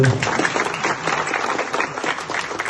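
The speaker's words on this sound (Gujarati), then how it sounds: "તાળીઓ તો પાડો" An audience at a farewell event breaks into brief, dense applause, with many hands clapping at once close by for a couple of seconds.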